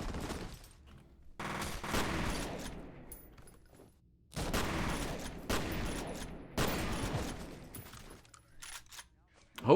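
Bursts of gunfire in the video game F.E.A.R. Extraction Point, loud dense volleys separated by quieter gaps, with a sharp crack at the very end.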